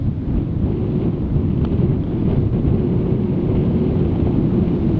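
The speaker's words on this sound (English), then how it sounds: "it's getting a bit windy" Steady wind buffeting the microphone on a golf course, a continuous low rumbling roar that holds at the same strength throughout with no voices.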